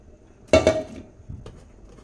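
Okra being mixed with salt and oil in a bowl gives a couple of close, sharp clinks of a spoon against the bowl, followed by softer scrapes and taps in a quiet kitchen.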